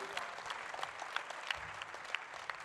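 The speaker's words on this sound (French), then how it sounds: "Applaudissements" An audience at a conference on social housing applauds, a faint, steady patter of many hands clapping heard from a distance.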